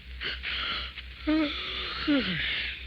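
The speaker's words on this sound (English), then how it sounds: "I keep yawning all the time." A boy in an old radio drama gives a long, drawn-out, breathy yawn that rises and falls, heard over a steady hum from an aged broadcast recording.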